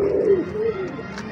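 Teddy pigeons give a brief, soft cooing call at close range, a short low warble that fades within about a second, with faint background noise.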